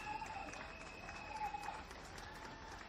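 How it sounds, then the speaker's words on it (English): Northern Ireland supporters at a women's Euro qualifier football match against Malta give a warm round of applause, a faint, distant patter of clapping with a soft crowd murmur throughout. "who gets a warm round of applause from some of the Northern Ireland fans"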